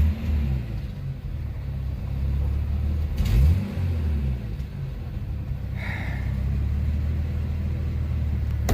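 A Jeep Comanche pickup truck with an ailing engine and low oil pressure gives off a deep, steady low rumble from inside the cab, with a brief rise in revs partway through.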